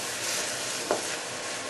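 Chopped vegetables sweating gently in a pan for a homemade soup, a soft, steady low sizzle with one brief stir or tap near the middle, no voices.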